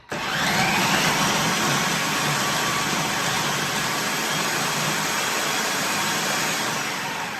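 A blender grinds dates with peanut butter for a vegan snack, its motor whirring loudly and steadily without a break for the whole stretch.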